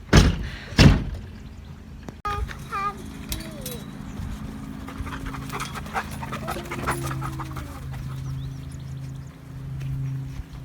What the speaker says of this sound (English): We're gonna let the dogs out now.